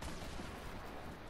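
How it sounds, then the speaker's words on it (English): A grenade launched in a PS4 shooter game, heard as a dense, steady burst of booming gunfire-like noise filling the short moment with no talk over it. "I'm shooting a grenade down."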